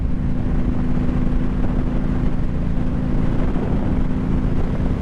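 A Suzuki Boulevard M109R motorcycle on an open road, its engine a constant dense drone with a steady hum, heavily mixed with wind rush at the microphone, and no voices.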